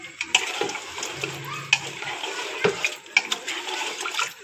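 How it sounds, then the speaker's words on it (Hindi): Water is poured into a pot of beef for biryani and then stirred, a splashing, gushing pour with clinks and scrapes of stirring, close and fairly loud, with no one talking. "अब देखिए इसके अंदर डाल दूँगी मैं ये पानी और पानी डाल के इसे खूब अच्छे से चला देंगे।"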